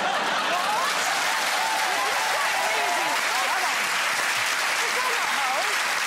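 A steady wash of audience applause from a TV quiz show studio audience fills the whole stretch, dense and sustained, with a few chuckles scattered through the clapping.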